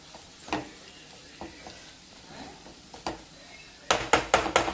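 Dried fish frying in oil, stirred in a pan, gives a soft sizzle under scattered scrapes and taps of the spoon, ending in a burst of several quick, sharp clatters against the pan.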